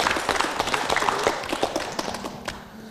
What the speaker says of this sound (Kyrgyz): Кол чаап коелучу